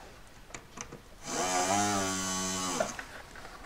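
A small power drill bores a hole through a metal ring for a three-stone setting, a brief rising whine that holds steady for over a second before spinning down, close and alone.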